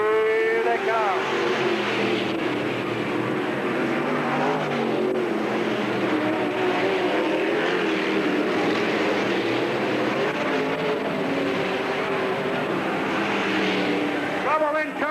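Race cars roar around the Bureau County Speedway track in a continuous, loud pack, engines droning and shifting pitch as they pass, with an announcer talking over the noise throughout.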